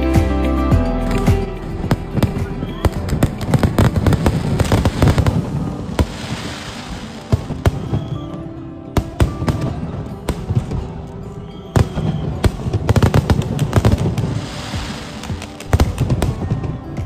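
Diwali fireworks go off at Shivaji Park in a loud, dense run of cracks, pops and booming bursts that keeps going for the whole stretch, with a few brief lulls before the barrage picks up again.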